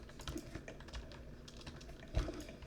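Quiet, close-up keystrokes on a computer keyboard, a scattered run of soft clicks and taps with one slightly louder press near the end, and no voice.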